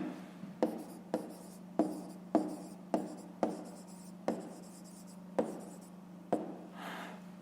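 Chalk or marker strokes on a board while a fifth-grade maths exercise is worked, a series of about ten crisp taps and short scratches in a steady rhythm over a faint constant hum, close and alone.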